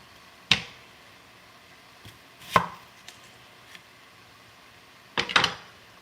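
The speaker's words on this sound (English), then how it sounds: "Just cut off a piece of onion here that didn't look right." A knife chops through onion on a cutting board while vegetables are prepared for a puréed soup: three sharp, separate thuds spaced a couple of seconds apart, with a few faint knocks between.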